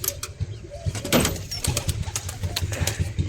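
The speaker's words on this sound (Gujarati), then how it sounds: "જોઈ લો આટલા આપણા કબૂતર છે" Pigeons inside their box give soft, low repeated coos alongside brief chirps and faint rustling, heard close up with no talk.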